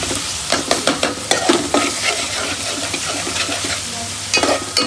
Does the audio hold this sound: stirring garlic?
yes